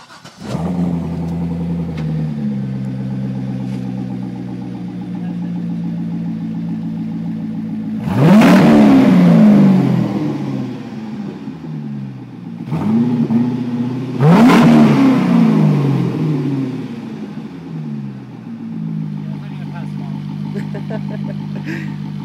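A 2005 Corvette fitted with a new Borla exhaust idles with a deep burble, then is revved hard twice, each rev a loud, sharp climb that falls back to idle. The car is close, and voices are heard faintly in the background.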